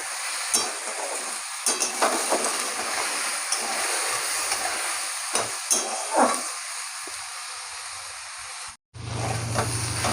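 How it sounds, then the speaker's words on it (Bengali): Spring onion stalks fry in hot oil with a steady, close sizzle, broken by occasional sharp clinks and scrapes of stirring, then a brief drop near the end. "এখন দিয়ে দেবো এই পেঁয়াজের কলিগুলো। এগুলো ভালো করে তেলে ভাজবো।"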